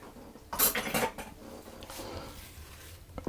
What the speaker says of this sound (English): So I'll just scrape the flour off the edge of the bowl, stir that in